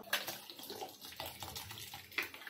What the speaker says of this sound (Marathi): आता ह्याच्यात आपण पुन्हा पाणी टाकणार आहोत थंड